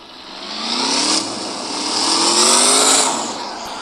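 A Mercedes car engine in a video game revs up and eases back twice, a smooth rising and falling motor tone heard up close and loud with no talking over it.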